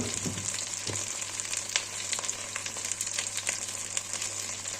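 Oil sizzling with meat in a pot while cooking okra and meat, a faint, steady hiss with light crackles and an occasional soft clink, over a constant low hum.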